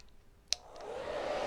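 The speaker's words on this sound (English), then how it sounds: "now I'm going to hit this with the hairdryer and get it dry this time" A hairdryer dries a craft project, a bunny pail. A sharp click is followed by the dryer's steady, close rushing whir, which builds and holds with no talking.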